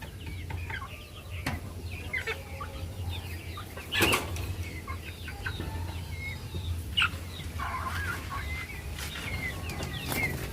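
Backyard chickens, including a Jersey Blue hen, cluck softly against a steady low hum, with a couple of brief bursts of wing flapping and some quiet talk nearby.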